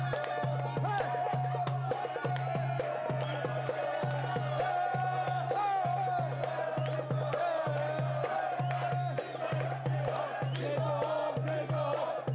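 Crowd of Barça football fans in Morocco cheering and chanting in a steady pulsing rhythm, a large group singing together with regular drumbeat-like thumps underneath.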